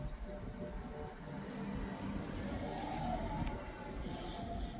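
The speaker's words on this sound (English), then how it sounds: "not with the car coming by" A car rolls past on a road near a 1973 Camaro under repair, a steady moderate tire-and-engine rumble swelling slightly as it goes by.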